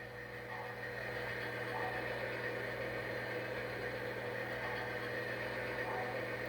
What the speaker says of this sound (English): You hear it start its engine.